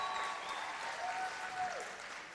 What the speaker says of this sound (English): Give them a hand, give them a round of applause.